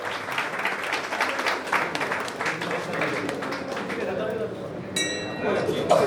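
Many hands clap at an installation ceremony of a centenary association in Kanchipuram, a thick applause that thins toward the end before a bright metallic chime rings out, with voices faintly underneath.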